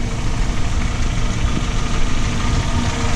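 A car engine idles smoothly and steadily after a fuel injector replacement, a close, even low rumble with no misses, running alone without talk.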